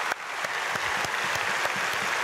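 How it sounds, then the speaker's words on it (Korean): A church congregation applauding to bless two visiting guests at an early-morning prayer service, a dense, steady roll of many hands clapping that fills the room, loud and continuous with no voices over it. "우리 두 분에게 크게 박수로 축복해 주시고"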